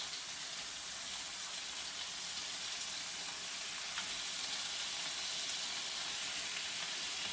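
Shrimp frying in a pan for chow mein, a faint, steady, even sizzle crackling throughout, with no voices.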